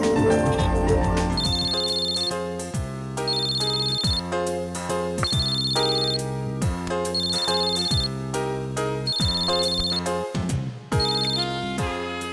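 A telephone ringtone plays a bright, repeating melodic pattern, cycling about six times at a steady pace, clear and fairly loud with no voices over it.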